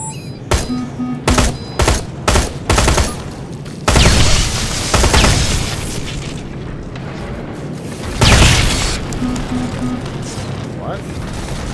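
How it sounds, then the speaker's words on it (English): Assault rifle fire in the Terminator Resistance shooter comes as several short, loud bursts, followed by heavy booming blasts and rumbling combat noise, with a voice heard at points. "I haven't used my assault rifle in a while."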